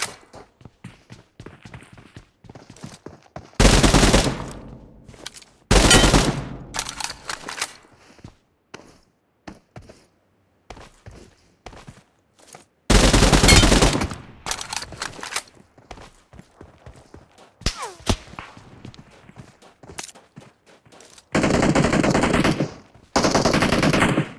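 Automatic gunfire in the mobile battle-royale game PUBG Mobile, with several loud, dense bursts of rapid shots separated by quieter stretches of scattered single shots and game sounds.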